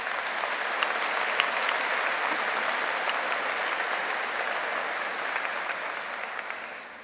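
A full round of applause from a large outdoor crowd at a high school commencement ceremony, a thick, sustained roar of clapping at steady loudness for several seconds before starting to fade.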